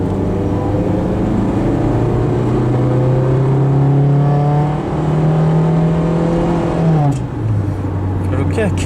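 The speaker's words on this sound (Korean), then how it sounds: "이 엑셀 밟아서 가속을 해볼게요" A 1990s Hyundai Scoupe accelerating with the throttle pressed, engine droning and rising steadily before a kickdown gear change drops the pitch, heard loud from inside the car without talk.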